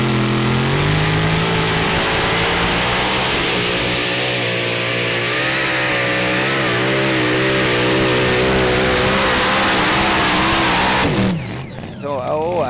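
Tractor pulling competition engine roaring loud and sustained through a full pull at the Eurocup finals in Brande, Denmark, the pitch climbing and wavering under heavy load before cutting off abruptly near the end.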